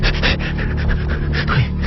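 Heavy, rapid panting breaths after a run, loud and close, continuing steadily without pause.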